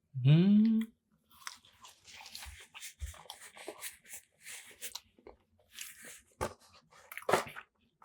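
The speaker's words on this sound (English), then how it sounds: "We're gonna do the final bite here of this fry" Someone bites into a fried chip from a fish and chips meal, giving soft, irregular crunching and chewing sounds close to the mic, with a brief vocal sound at the start.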